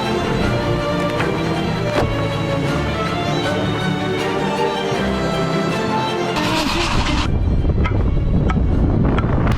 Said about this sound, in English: The boat's doing 25 knots.